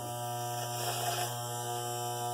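An electric hair clipper fitted with a number 2 guard trims a mustache, giving a steady, close, unbroken buzzing drone.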